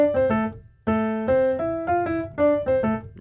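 The original Spider-Man theme plays as a short brassy, harmonically rich melodic phrase in a minor key, with several bright sustained notes rising and falling, loud and without any voices.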